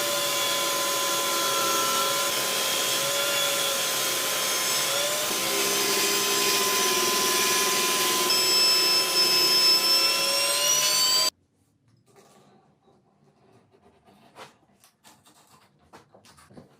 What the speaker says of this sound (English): Let's set the table saw up and give it a crack.